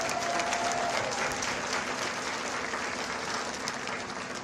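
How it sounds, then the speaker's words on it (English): Audience clapping for eighth-grade math relay students at a middle school recognition ceremony, a broad, even wash of applause that holds steady and eases slightly toward the end, with no voices. "Let's give our outstanding math relay students a nice round of applause."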